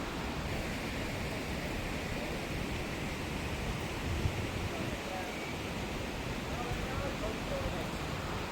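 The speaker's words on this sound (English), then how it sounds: "There's always a sound of running water. There's a stream off to my right" Steady broadband rush of a nearby stream in Scotland near Kilchoan, continuous and even throughout with no voices.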